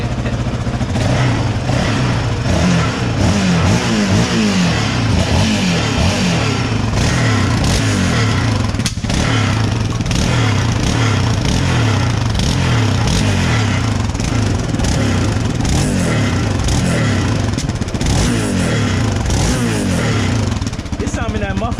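A car engine that has sat unused for a year or two revs and runs loudly close by, with a rough, buzzy rattle from something loose inside the muffler, while people talk over it.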